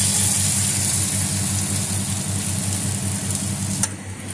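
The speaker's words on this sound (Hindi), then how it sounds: "देखिए मैंने कितना अच्छा बीट किया और कितना अच्छा फ्राई हो रहा है" A beaten egg frying in a pan at a Karachi street-food stall making bun kebab, giving a steady close sizzle over a low, engine-like droning hum, with no talking.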